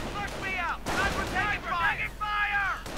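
Sniper fire and battle sounds in the Company of Heroes strategy game during a 1v1 match, with sharp shots and rumbling blasts under continuous speech.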